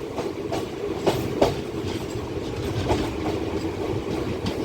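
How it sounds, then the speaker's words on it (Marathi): Maharashtra Express passing Hatkanangale railway station, a steady rumble of wheels on rail with rhythmic clickety-clack and a few sharper clanks, close and continuous throughout. "आणि बघा मित्रांनो महाराष्ट्र एक्सप्रेस"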